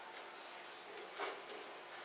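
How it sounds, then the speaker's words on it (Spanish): Yungas fruiteater singing in the forest: a thin, high whistled note that rises and holds for about a second, clear and alone over quiet background. "Ahí está, frutero yungueño."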